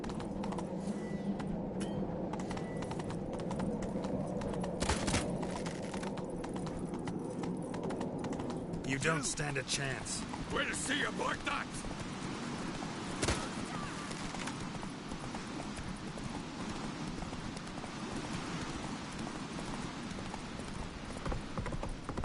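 Hooves of Roach, the horse in The Witcher 3, clatter at a gallop throughout, joined by game combat noise with sharp impact bursts and brief spoken lines in the middle.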